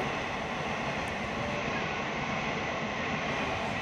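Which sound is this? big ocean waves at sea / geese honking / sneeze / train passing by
train passing by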